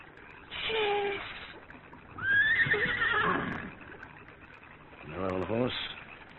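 A horse whinnies several times in an old Australian Western radio drama, shrill rising and falling calls spread across a few seconds over a low background, with a final shorter neigh near the end.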